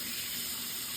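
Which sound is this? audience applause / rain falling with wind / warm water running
warm water running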